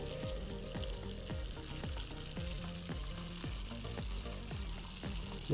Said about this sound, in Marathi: पीसला आपण पाच मिनटापर्यंत लो फ्लेमवर शिजून टाकलं आहे किंवा तळून टाकलं आहे